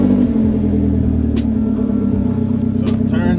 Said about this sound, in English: I should just be able to start the car and rev it